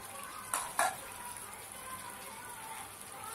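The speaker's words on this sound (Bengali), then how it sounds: "ঢাকনাটা উঠাবো" Metal lid lifted off a cooking pot of carrot polao, two quick clinks close by over a steady low hiss of simmering.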